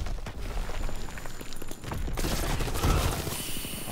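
PPSh submachine gun in a WW2 video game, a loud continuous fusillade of rapid shots with rumbling impacts, dense and close throughout.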